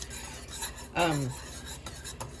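A spoon scrapes and rasps against a pot of hot plum jelly as it is stirred, with a sharp squeaky scrape near the middle among softer rubbing strokes, close and fairly quiet.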